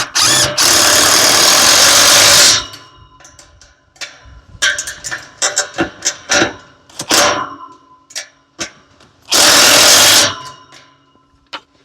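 Impact wrench tightening a clamp on a solar gate opener, with two long loud bursts of buzzing hammering separated by scattered clicks and handling knocks.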